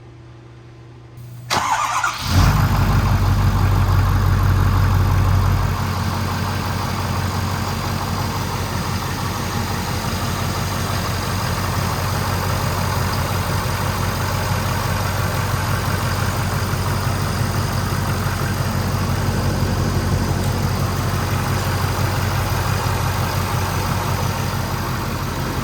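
Ford 6.7 Powerstroke diesel in an 2011-2014 pickup cranks and fires after a quiet moment, flares briefly, then settles into a loud, steady idle clatter and hum close by, with no talking.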